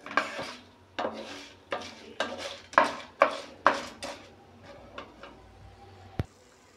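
Masala spices being dry-roasted and stirred in a pan for bendakaya rice, a series of distinct scraping and clanking strokes of a spoon against the pan, loud and close, tapering off toward the end.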